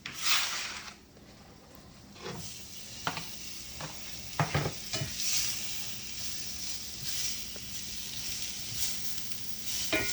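Sliced peppers dropped into a pan of frying fajita steaks, giving a loud hissing sizzle with a few sharp clatters as they land and are stirred. The sizzle then settles into a steady close fry with no talking.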